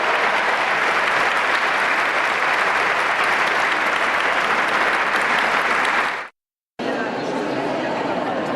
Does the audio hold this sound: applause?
yes